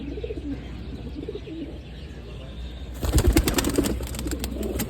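Soft pigeon coos repeat in the first seconds, then a burst of wing flapping and rustling joins, with cooing continuing underneath.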